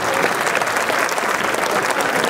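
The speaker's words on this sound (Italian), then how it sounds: "E l'applauso più bello lo facciamo a lei," A crowd at an evening show in Fonni, Sardinia bursts into loud, sustained applause, dense clapping filling the space evenly throughout.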